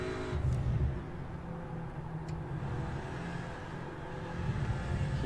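An Audi RS3 race car in iRacing, lapping Laguna Seca, drones with a low engine note that eases off under hard braking, then builds again as the throttle returns, moderately loud and continuous.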